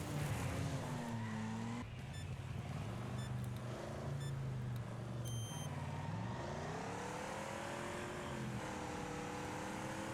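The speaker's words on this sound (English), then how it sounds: "just a bog standard banger race on one of the bigger tracks in the game as well" Video game banger race on a large track, cars roaring continuously with engine pitch rising and falling through gear changes, tyres skidding and squealing, loud and steady throughout with no talking.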